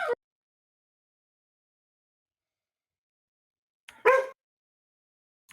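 Dog barking: two short, sharp barks, one at the very start and another about four seconds later, separated by silence.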